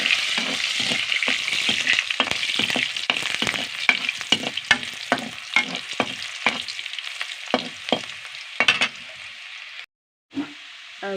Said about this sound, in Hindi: प्याज ला डालते संगवारी हो, थोड़ा चम्मच चला लेते हैं।